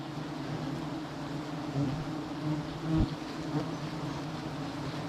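Bees buzz densely around a large wild honeycomb during honey hunting, a steady close drone with brief louder swells and a sharp knock partway through.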